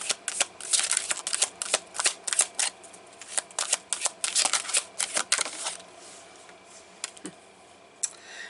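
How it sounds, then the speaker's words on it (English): Tarot cards shuffled by hand: quick, crisp riffling bursts in an uneven rhythm, close and clear, thinning to a few scattered taps and flicks toward the end. "I'm going to pull some more cards for that."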